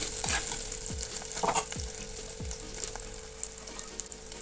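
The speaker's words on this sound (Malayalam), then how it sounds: "ഇനി നന്നായിട്ടൊന്ന് വഴറ്റിയെടുക്കാം" Sardine curry masala sizzles and fries steadily in a pan while a spoon stirs it, giving a few distinct scraping knocks against the metal. No one speaks.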